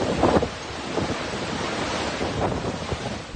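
Typhoon Emong drives strong wind and rain across La Union, making a loud, continuous roar of gusts buffeting the microphone, with heavier surges near the start.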